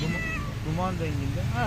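A very large smoky-grey street cat in Gebze, sheltering from the rain, meows repeatedly up close with drawn-out, wavering cries while someone talks to it.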